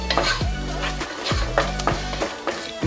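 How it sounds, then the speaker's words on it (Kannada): Masala fries in oil on a low flame for a drumstick curry, giving a soft sizzle broken by repeated scraping strokes of a spoon against the pan, close and without talk. "ಎಣ್ಣೆನಲ್ಲೇ ಇದು ಚೆನ್ನಾಗಿ ಫ್ರೈ ಆಗಬೇಕು. ಲೋ ಫ್ಲೇಮಲ್ಲಿ ಇಟ್ಕೊಂಡು ಹಾಕ್ಕೊಳ್ಳಿ"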